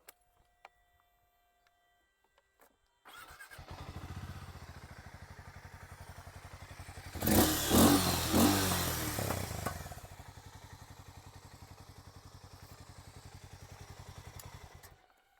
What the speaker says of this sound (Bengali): এটা ছিল হার্লের এক্সস্টের সাউন্ড